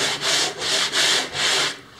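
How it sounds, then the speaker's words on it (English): Sanding a wooden kayak hull by hand: three sustained rasping strokes of abrasive on wood in a steady back-and-forth rhythm, close and fairly loud, with no voices. "Oh, and now back to sanding."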